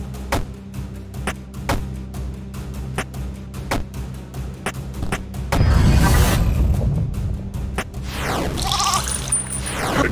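A goat in the web game There is no game gives a loud, wavering bleat midway, over a steady ticking rhythm and background music, followed by a rising sweep.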